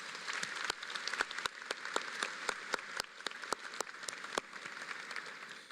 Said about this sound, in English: Graduates, please give your family and community a round of applause.